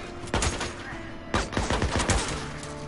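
Gunshots in the video game Days Gone, a single sharp shot followed a second later by a rapid cluster of several more, loud and close with a faint murmur between.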